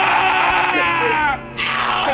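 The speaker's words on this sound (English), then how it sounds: "Scream." Person screaming loudly and close, a sustained wavering shriek that breaks off briefly and then resumes.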